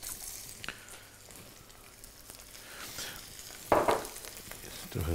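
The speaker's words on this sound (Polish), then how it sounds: "I smażymy. Smażymy skórą do dołu." Salmon fillet, dredged in flour, sizzles and crackles skin side down in a hot pan, with a louder burst of frying partway through.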